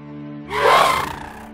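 A slowed, deep growling roar with a glassy, grinding texture, a creature vocalization for the game Dauntless, swells for about a second over a low steady hum, then fades.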